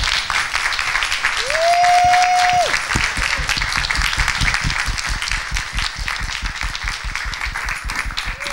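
Audience at the Fall Into Balance 2017 opening ceremonies applauds steadily for a welcomed speaker, with a sustained whoop early on and dense rhythmic clapping throughout.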